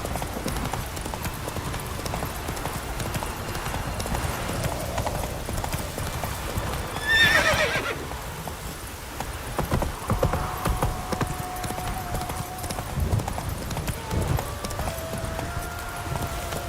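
Roach the horse gallops in The Witcher 3: Blood & Wine, hooves clip-clopping in a steady, driving rhythm for the whole run, with a brief whinny partway through over ambient game sound.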